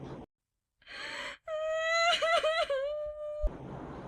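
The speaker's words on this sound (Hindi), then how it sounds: "उसमें से रोने की आवाज़ आई" A drawn-out, eerie crying wail rises from inside a small clay pot dug up from the ground, a quavering moan preceded by a sharp gasp, used as a spooky storytelling effect.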